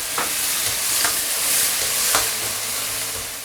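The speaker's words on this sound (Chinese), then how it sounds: "这时候我们沿着锅边烹入点料酒或者是花雕都可以啊" Cooking wine or Shaoxing huadiao poured along the edge of a hot wok of stir-fried meat gives a dense, steady sizzle close by, with a few sharp spatula scrapes and clinks over it.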